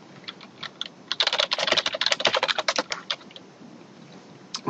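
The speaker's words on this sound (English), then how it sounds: "and then here we're going to type in" Router configuration commands being typed on a computer keyboard: a rapid run of close, crisp key clicks, sparse at first, then dense fast bursts in the middle before tapering off, with no talking.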